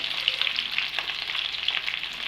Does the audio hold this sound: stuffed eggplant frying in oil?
yes